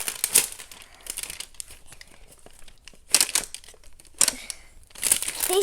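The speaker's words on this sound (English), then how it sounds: "These things are hard to unwrap, guys." Crinkly plastic toy packaging rustles and crackles up close in uneven bursts as it is pulled open, with sharp loud crinkles between quieter handling.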